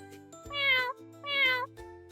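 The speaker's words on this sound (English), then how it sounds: "Who says meow? It's the cat." A cat meows twice in a toddler animal-sounds lesson, each call a clear, drawn-out, rising-and-falling meow over a soft steady music bed.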